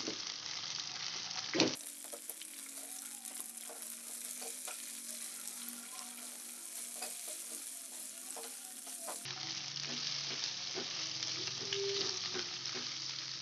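Long beans stir-fry with anchovies in a hot pan, a dense continuous sizzle with scraping and stirring clatter running steadily for the whole stretch, close and fairly loud, with no talking.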